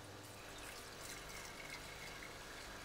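A liquid solution is tipped from one vessel into a flask during a chemistry demonstration of a colour-changing traffic-lights reaction, a faint, steady splashing trickle lasting a few seconds with no voices.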